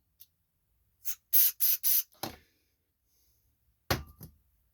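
Short hissing bursts of aerosol carburetor cleaner sprayed into a snowblower carburetor's holes, several quick squirts in a row followed by a couple more after a pause, close by and otherwise quiet.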